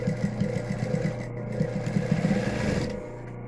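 A sewing machine runs steadily while stitching the edge of a fabric 3D face mask, a close, even motor hum with rapid needle ticking and a short dip before it winds down near the end.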